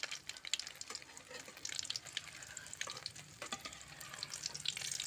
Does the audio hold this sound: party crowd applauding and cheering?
no